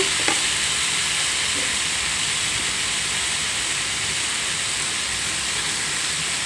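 Peas and onions fry in a pan with turmeric and chili powder, giving a steady, loud, close sizzle that holds evenly throughout, with a couple of soft stirring knocks near the start.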